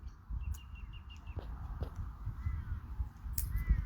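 Water birds call from a tree full of nesting birds during a soft morning rain, with scattered crow-like caws and brief chirps sounding at moderate distance over a steady low wash of rain and ambience.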